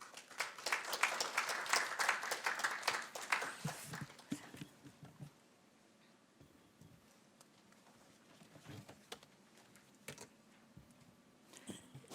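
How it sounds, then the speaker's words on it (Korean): Applause from a policy forum audience welcoming a speaker, loud and dense for the first few seconds, then thinning into scattered claps and quiet room noise. "박수로 맞이해 주십시오"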